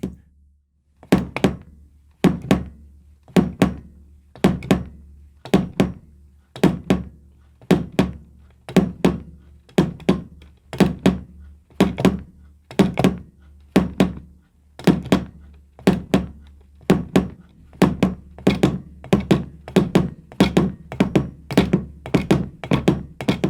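A bass drum is struck repeatedly with a foot pedal in paired double strokes, dull close thumps in a steady rhythm that gradually speeds up, alone with no other instruments.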